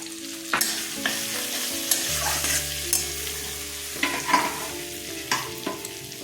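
Ground cumin and coriander powder stirred into hot oil in a pan after turmeric, for a vegetarian mixed-vegetable curry; a steady sizzle with several scraping stirs at irregular intervals, close and alone.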